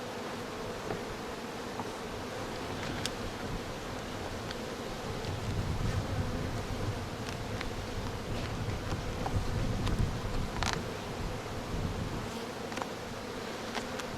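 Honey bees hum in a dense, continuous buzz at an open hive during an inspection, with individual bees droning past close by and a faint rustle beneath.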